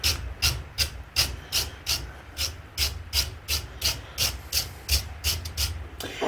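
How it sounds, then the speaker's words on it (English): A wire brush scrubs the threaded stub axle of a trailer in steady, rhythmic back-and-forth strokes, about three per second, close and fairly loud with no talk. "I'll wire brush these threads first."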